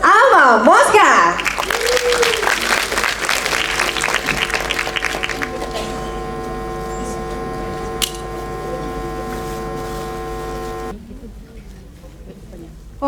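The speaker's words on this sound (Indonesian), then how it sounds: "kita berikan tepuk tangan yang paling meriah" At the MADANI International Film Festival 2025 opening ceremony, the audience applauds performer Alma Moska. Loud clapping rises after a voice and continues under sustained tonal sounds before fading to a quieter hum.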